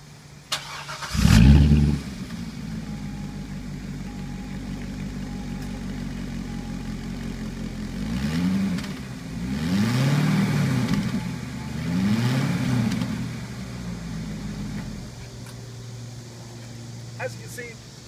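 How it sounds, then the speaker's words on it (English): A 2012 Chevrolet Corvette engine fires up with a loud burst, settles into a low idle, then is revved several times in rising and falling swells before dropping back to idle, close by. "I'm gonna have my camera girl, Kaylin, give you a little bit of a sound bite for the engine."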